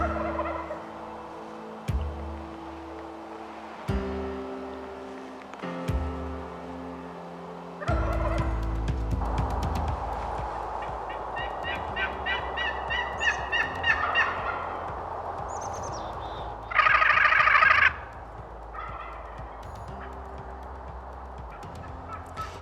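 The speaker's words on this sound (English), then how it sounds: "I'm back on the same gobbler the next morning." Wild turkey gobbler gobbling repeatedly at mid distance, with loud rattling calls separated by pauses and outdoor background noise between them.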